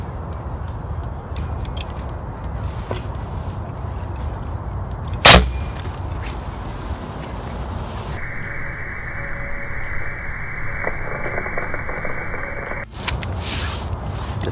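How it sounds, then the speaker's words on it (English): A fire extinguisher fired to blast fishing line off an open-bail reel spool at Montrose Harbor on Lake Michigan, one sharp sudden blast cutting through steady outdoor wind noise, followed by a long hissing rush that ends abruptly. "We set up to fire out our fire extinguisher with our reel spool open bail."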